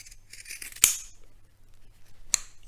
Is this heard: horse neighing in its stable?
no